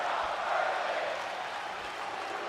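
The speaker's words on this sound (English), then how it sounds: "It's a crowd chanting, "You're not worthy,"" Arena crowd chanting in the WWE 2K24 wrestling video game, a broad sustained roar of many voices at steady volume, dense and distant-sounding, with no distinct individual speech.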